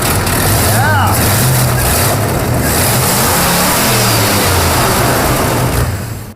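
A rebuilt car engine, freshly overhauled, runs loud and rough up close, a steady roaring drone with rising revs throughout, with people talking under the noise.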